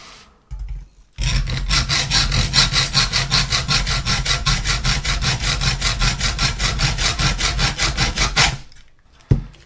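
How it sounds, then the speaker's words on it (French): A hacksaw cuts a steel bicycle spoke in two with rapid, steady back-and-forth rasping strokes, close and loud, for several seconds before stopping. "On va le couper en deux avec une scie à métaux."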